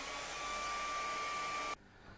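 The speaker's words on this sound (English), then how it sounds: "Now we'll blow dry this so we can put this top moon stencil on." Hair dryer blowing on wet acrylic paint during a stencil painting, a loud steady whirring drone with a high whine that cuts off abruptly near the end.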